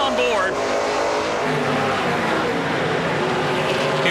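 A NASCAR Pinty's Series stock car's engine roars loud and steady in on-board race audio at the Toronto street circuit, with a continuous revving drone and commentators talking over it.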